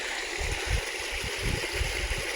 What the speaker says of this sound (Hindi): स्वनिर्मित एक खूबसूरत पानी का झरना।